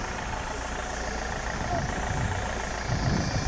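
A Chevrolet Trax diesel engine, 2013 model year, idles steadily with a low, continuous rumble and slight knocking, close by, with no other clear sounds over it.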